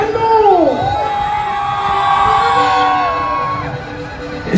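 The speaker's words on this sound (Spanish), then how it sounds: "Y que se haya ese grito mexicano." A crowd at a Mexican regional music band's live show lets out a loud, sustained grito with whoops and yells, rising and falling over several seconds, with excited shouting voices layered throughout.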